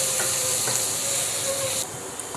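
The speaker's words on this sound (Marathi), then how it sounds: "हा कांदा आपल्याला छान असा परतून घ्यायचा आहे" Two finely chopped medium onions sauté in a hot pan for pav bhaji, giving a steady, close sizzling hiss that drops slightly in level near the end, with no talking.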